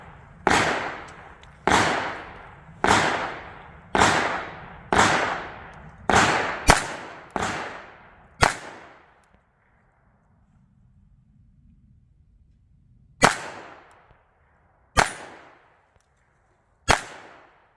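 A Precision Small Arms PSA-25 .25 ACP pistol fires about eight sharp, close reports in a steady rhythm. After a pause of several seconds, three more widely spaced shots follow.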